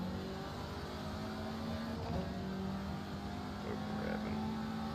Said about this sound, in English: Over-revving.